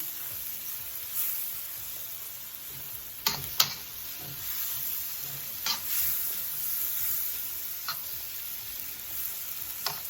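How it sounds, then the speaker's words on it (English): Food frying in a pan over medium heat for jerk shrimp rasta pasta, a steady soft sizzle broken by a few sharp clicks of the spoon stirring against the pan, with no talking. "We'll stir it in here for 2 or 3 minutes. We got the heat on medium."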